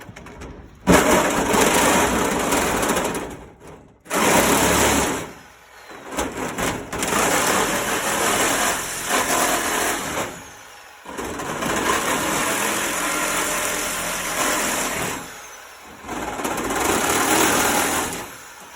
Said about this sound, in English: All right, Sawzall, every redneck's favorite weapon.